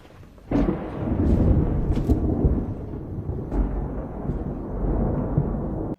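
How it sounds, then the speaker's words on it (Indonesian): Loud thunder before rain, a sudden deep rumble bursting in and rolling on for several seconds with crackling peaks, heavy and close, no voices. "Tiba-tiba terdengar suara petir yang cukup keras dan pertanda hari akan hujan."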